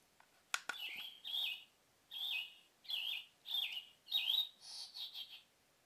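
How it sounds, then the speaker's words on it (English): Recorded birdsong plays from a Holife digital alarm clock as a wake sound, a series of short bright chirping phrases repeating at a steady pace, fairly quiet, after a couple of button clicks. "So that's some birds chirping or bird song."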